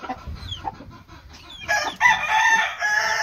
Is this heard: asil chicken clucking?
yes